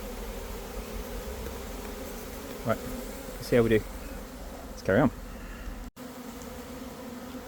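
A swarm of bees drones in a low, steady hum while smoke is used on them, with someone speaking briefly over the buzzing at close range.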